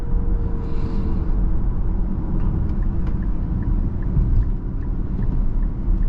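A 2023 Nissan Ariya electric SUV picks up speed on the road, heard from inside the cabin as a loud, steady low road rumble with faint light ticking above it.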